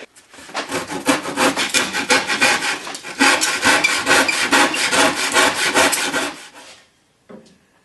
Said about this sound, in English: I'm going to cut this off by hand here